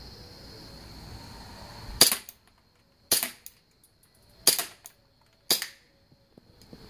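Four sharp gunshots crack out at uneven intervals during outdoor target practice, each one loud and close with a short decay into near silence, following a quiet, faintly noisy lead-in.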